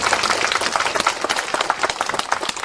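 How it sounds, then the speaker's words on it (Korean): Audience applause for monks at a Buddhist mountain-spirit ceremony at a temple, a dense steady clapping of many hands that fills the whole stretch at close range. "박수 좀 부탁드립니다."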